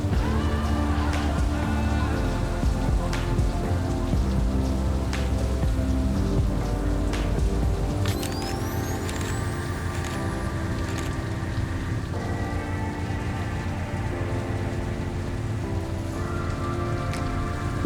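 Steady, dense rain falls on surfaces in a Patagonian fjord, a continuous close hiss with scattered drops and a few brief higher tones partway through, no talking.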